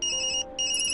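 Phone ringing in the Tokyo Dark video game: a bright electronic ringtone trills steadily, broken by one short pause, close and clear with no voices.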